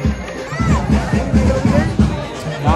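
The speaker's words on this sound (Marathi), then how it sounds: "किती गर्दी आहे बघा" Packed Kharvali temple grounds give off a thick, close babble of many voices, a continuous crowd murmur with a nearby speaker heard over it.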